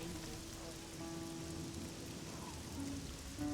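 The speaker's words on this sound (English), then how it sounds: "Spend a little time out in the rain." Rainfall in the video game Oblivion pours as a continuous, moderate hiss, layered with quiet held musical notes that drift in and out.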